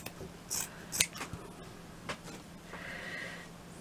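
Scissors cutting paper pieces for a vintage book-cover wall hanging craft: several crisp, close snips at an uneven pace, separated by quiet pauses.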